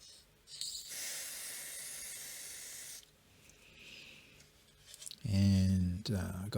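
Canned air is sprayed into an Atari 2600 Jr. console as a steady, close hiss lasting about two seconds, followed by a fainter second spray, then a voice speaking briefly.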